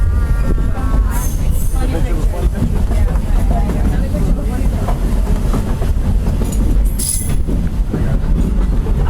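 Riding aboard the Walt Disney World Railroad train, a loud, continuous rumble with rhythmic clickety-clack and bursts of high wheel squeal runs for about nine seconds, with voices heard over the ride.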